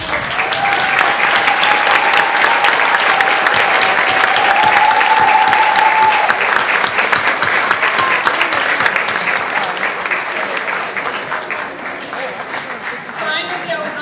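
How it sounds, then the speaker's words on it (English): A large audience applauds at an 8th grade graduation ceremony, sustained loud clapping filling the hall for over ten seconds with cheers and voices beneath, easing slightly toward the end. "give your loved ones a much needed and well-deserved round of applause"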